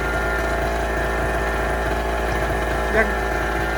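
A small 0.7 kW portable petrol generator holds a steady idle-like drone at working speed, even and continuous from start to end with one brief small bump near the end.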